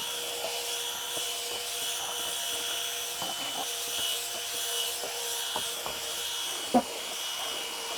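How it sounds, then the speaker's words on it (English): Drill brush scrubbing a WeatherTech rubber floor mat, a steady whirring, rubbing hiss with faint scraping ticks throughout and one brief louder knock near the end, moderately quiet and close. "So let's do the first part and get our drill brushing done."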